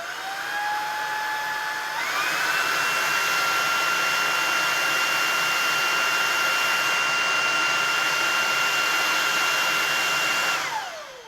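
A Shark Vertex Pro cordless vacuum cleaner runs in boost mode, a loud, steady high-pitched whine that steps up in pitch after a couple of seconds, holds for a long stretch, then winds down at the end.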